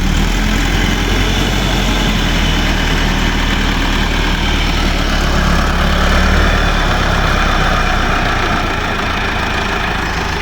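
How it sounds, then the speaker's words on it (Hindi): A heavy diesel tractor engine idles loudly and steadily nearby, a low continuous rumble with a faint rhythmic chug throughout. "ट्रैक्टर लेके खैर से आ गया है"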